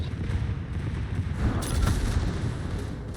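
Secondary guns on a warship fire during a naval video game, producing a dense, continuous rumble of rapid booms, loud and close, with speech faintly underneath.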